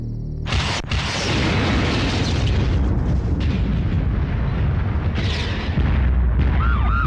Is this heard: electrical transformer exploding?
yes